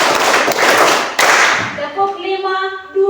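A classroom group claps together in a rhythmic counted pattern, a dense burst of many hands that swells and then breaks off, followed by a voice speaking.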